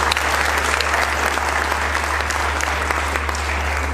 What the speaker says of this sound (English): I think that's worth another round of applause